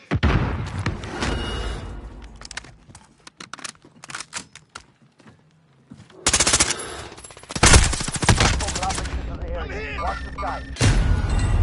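Warzone gunfire, with rapid automatic bursts and single loud shots in several clusters between quieter gaps, mixed with game voice lines and other in-game sounds.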